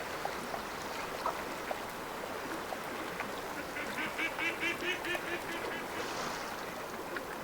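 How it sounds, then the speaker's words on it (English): Loud ducks quacking in the Way of the Hunter hunting game, a burst of repeated honking calls over a steady outdoor ambience with a faint stream, only a couple of birds audible. "Super overloud ducks."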